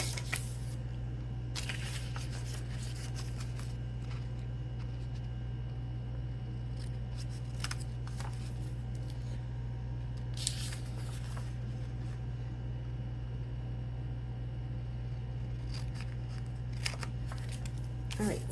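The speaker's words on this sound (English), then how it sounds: "now we're going to cut those two pieces away with scissors" Scissors snipping through paper pieces of a handmade junk journal, a few crisp cuts and rustles scattered quietly over a steady low electrical hum, with soft handling noise between cuts.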